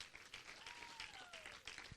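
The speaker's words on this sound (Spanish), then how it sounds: "Dale un aplauso al Rey de Reyes." A church congregation claps and applauds in a quiet, reverberant sanctuary, a brief soft spell of clapping with a faint tone sliding through it and voices murmuring underneath.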